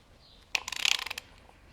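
Ratchet wrench turning a Nissan SR20 engine over by hand with the spark plugs out, a quick burst of close metallic clicking pawl ticks lasting about half a second, then quiet.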